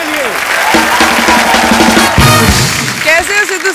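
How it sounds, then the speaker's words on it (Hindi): An audience applauds Priyanka Chopra on the set of The Kapil Sharma Show, a steady burst of clapping mixed with loud, tonal show music throughout. "जोरदार तालियां प्रियंका चोपड़ा के लिए"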